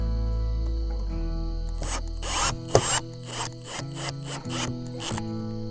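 Power drill driving screws into a plastic motorhome mirror assembly, with a low motor drone at first, then several short bursts of whirring and ratcheting clicks up close, with no talking.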